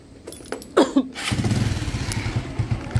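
A motorcycle on a flooded street, its exhaust swamped by floodwater, gives a short thump, then its engine catches and runs in a steady, rapid close-up putter.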